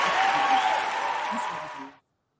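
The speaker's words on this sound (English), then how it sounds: "Let me give you a round of applause on that." A brief burst of applause on a radio interview show, a steady wash of clapping for about two seconds that cuts off abruptly into silence.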